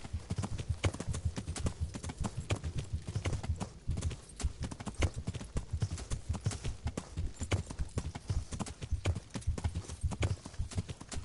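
Horse hooves pound in a fast, steady galloping rhythm throughout, loud and close, in the medieval video game Kingdom Come: Deliverance, with no talk over them.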